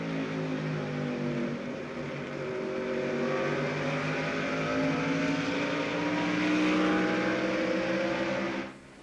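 An on-board view from a 1998 NASCAR race car at Richmond Raceway carries a loud, continuous engine roar with shifting gear tones, holding steady for about nine seconds before dropping off at the end.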